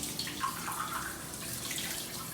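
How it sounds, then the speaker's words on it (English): Water running into and pouring from a glass at a kitchen sink, a steady close splashing and rushing stream through the whole stretch with a few brighter trickles and drips. "Now we'll empty the glass out, rinse it out nicely,"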